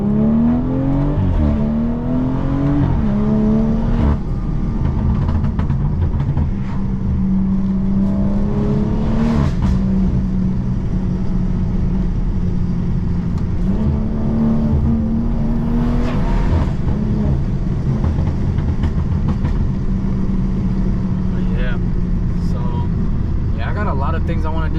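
Straight-piped BMW 340i engine droning loud and steady from inside the cabin while driving, pitch climbing and dropping through gear changes, with a voice talking faintly at times.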